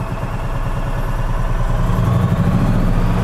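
A 2014 EZGO RXV gas golf cart engine runs steadily and close by, with a clattery, even idle that rises slightly toward the end, and no talking over it.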